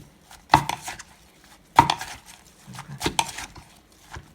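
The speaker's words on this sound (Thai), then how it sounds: "ตำตำให้เหมือนกับน้ำเขาออกมา" A pestle pounds carrot and fruit salad in a mortar, with several sharp, close thuds spaced irregularly over a few seconds and some softer clatter between them.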